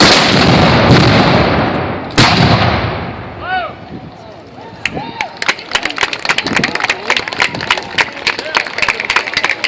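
A historic cannon fires outdoors, a loud booming blast with a long rolling decay, followed by a second sharp report; afterward come scattered claps and crowd noise.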